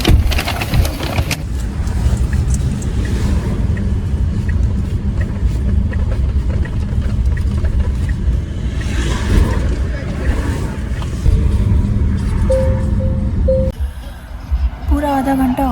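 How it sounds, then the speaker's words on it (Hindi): A car sits stuck in a Paris traffic jam, with a steady loud rumble of engine and road noise and wind buffeting the microphone throughout. People talk over it, and a brief tone sounds near the end. "पूरा आधा घंटा हो गया पेरिस में ट्रैफिक में फंसे हुए हैं"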